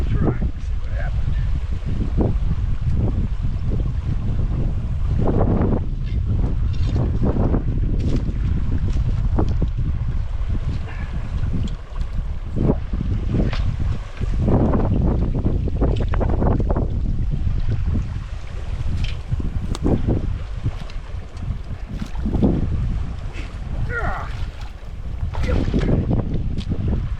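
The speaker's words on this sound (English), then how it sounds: "Windy to talk today almost." Strong wind blows outdoors across the microphone in gusty, roaring waves at a beaver trapping spot, continuous throughout with someone talking intermittently beneath it.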